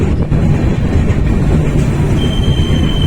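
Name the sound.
train on a rail journey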